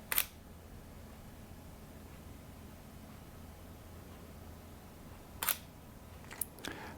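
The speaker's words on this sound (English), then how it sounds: "And it starts taking photos." Sharp mechanical camera shutter clicks taking time-lapse photos on a Ronin-S gimbal, one near the start and a few more near the end, over faint steady background hiss.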